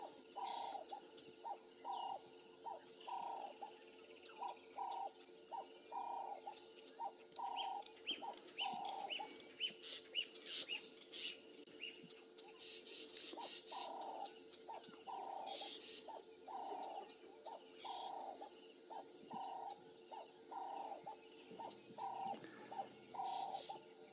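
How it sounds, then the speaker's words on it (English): Cape turtle doves call in repeated rhythmic coos from mid-distance during a morning safari drive in the bush, with other birds chirping and twittering over a steady low background hum. "that bird that's squalling at the moment is a Cape turtle dove"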